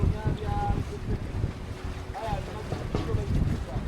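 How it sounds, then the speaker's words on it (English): Water sloshing at the source of the Nile near a built pier, heard close and choppy under steady wind buffeting on the microphone, with a few brief voices and tonal background sounds mixed in. "Look at the water slushing here."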